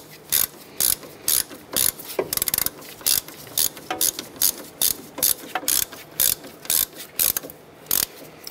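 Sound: ratchet tightening a bolt on a Honda Accord ABS bracket

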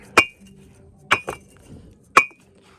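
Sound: picket bricks clinking against each other

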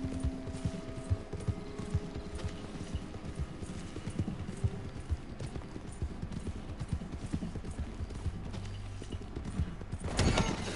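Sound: horse hooves clip-clopping in Red Dead Redemption 2 Online (video game)

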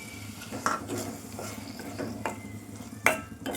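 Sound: stirring tomato paste into bean curry masala

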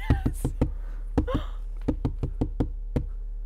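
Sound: knock on a door

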